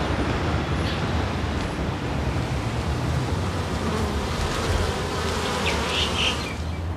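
Dense, steady buzzing of many honey bees swarming close around a hive on a Manhattan city farm, continuous and loud, with faint outdoor noise underneath.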